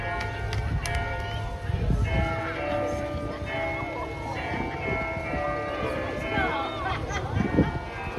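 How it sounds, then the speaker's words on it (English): Church bells in Wales peal out God Save the King in a continuous melodic sequence, ringing over steady background noise and a faint murmur of people. "the church bells were playing God Save the King, or their version of it anyway"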